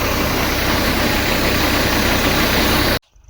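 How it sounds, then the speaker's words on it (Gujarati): A tractor engine and a cumin-threshing haller machine idle together on a farm, a steady, loud, dense mechanical drone that runs unbroken and then cuts off abruptly near the end. "આ છે અમારા જયેશભાઈનું હલર અને આ છે ટ્રેક્ટર."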